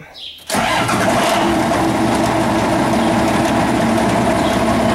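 A John Deere 7410 tractor engine cranks and catches, then settles into a loud, steady running rumble that fills the rest of the moment.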